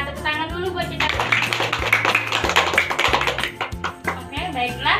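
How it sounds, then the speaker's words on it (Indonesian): A class of fourth-grade pupils claps in a quick, rhythmic, patterned beat, fairly close and loud, while a teacher talks and music plays underneath. "Tepuk tangan dulu buat cita-cita."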